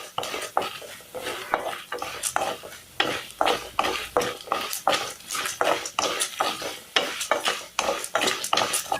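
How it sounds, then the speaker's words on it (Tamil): Dried red chillies frying in oil while being stirred in a pan, a spatula scraping and clinking against the metal in a steady repeated rhythm, close and clear over a light sizzle. "இது நல்லா செவக்கணும். அது வரைக்கும் வறுக்கலாம்."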